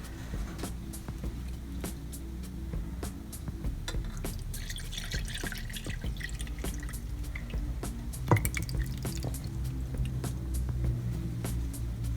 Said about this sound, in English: I'm going to pour it off into the Pyrex, and hopefully I won't make a big mess.